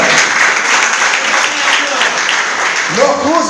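A church congregation claps steadily in sustained applause, dense and loud, with a voice starting to speak over it near the end.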